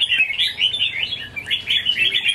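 A caged red-whiskered bulbul at a songbird contest sings a steady stream of bright, warbling chirps and tweets, close and clear with no talking.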